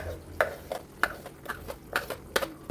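A spoon stirs ground field beans and tomato paste into a home-made avarekaalu sambar, giving a steady run of light clinks and scrapes against the pot, about eight strokes, close by.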